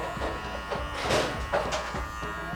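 Electric hair clippers fitted with a number 2 guard buzz steadily up close during a barber's cleanup of a basic haircut, the motor tone wavering slightly as the blades pass through hair.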